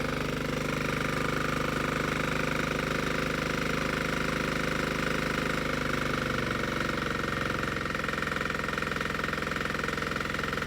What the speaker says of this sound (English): Then start the P1 pump. And reduce the speed to half idle.